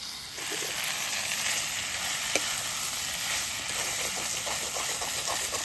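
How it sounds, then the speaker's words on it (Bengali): Meat braises and fries in a pot at a hillside campsite in Darjeeling, with a constant dense sizzle and hiss that starts abruptly and holds steady, close by and without talk. "মাংস কষানো হচ্ছে এখন"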